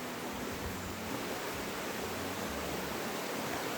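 Steady broadband rush of a river flowing beside a jungle trekking trail in the Western Ghats, a continuous close wash of water with low rumbling undertones and no voices.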